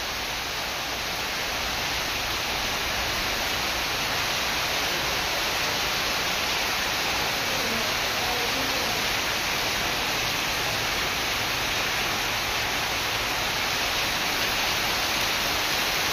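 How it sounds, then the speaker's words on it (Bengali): Rain falls steadily over a hilly area with trees around, an unbroken, loud, broadband hiss of drops that stays even throughout, with no voices. "দেখতে পাচ্ছি কি সুন্দর বৃষ্টি পড়ছে।"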